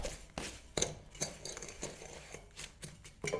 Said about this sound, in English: muddle it a little bit